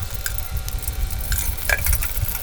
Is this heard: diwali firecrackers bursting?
no